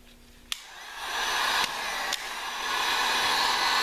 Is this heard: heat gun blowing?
yes